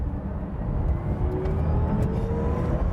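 A Pininfarina Battista electric hypercar accelerates, heard from inside the cabin as a dense rushing road and wind roar with a faint rising motor whine, loud and steady throughout.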